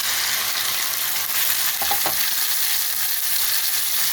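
A paste of thankuni leaves, ginger and green chili fries in a pan, giving a loud, constant close sizzle with a brief stir or scrape in the middle.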